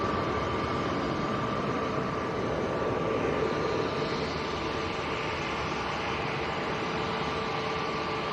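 An EasyJet airliner departing Manchester Airport for Amsterdam, a steady broad jet roar holding evenly throughout at a moderate distance, with no voices.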